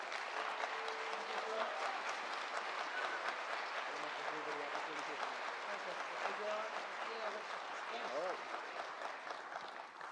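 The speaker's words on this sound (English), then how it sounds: "Please join me in another round of applause for our strategic partner from the Republic of France, Major Charles Henri-Marie Allegre." A room applauds a French army major at a Fort Leavenworth military student gathering, the clapping dense and sustained throughout, with a few voices murmuring underneath.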